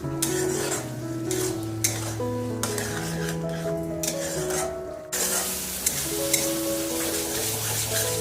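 Spices with a spoonful of tomato sauce stir-fried in a pan for a raw jackfruit dish: a steady sizzle with repeated scraping of a spoon, continuous throughout and a little louder after a brief dip near the middle, with music playing underneath.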